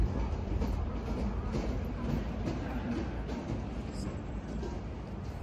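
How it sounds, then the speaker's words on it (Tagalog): Metro train at a London station near Canary Wharf, a continuous low rumble of rolling carriages with faint rail clatter, steady and moderately distant. "It's a train station. Metro, I think so."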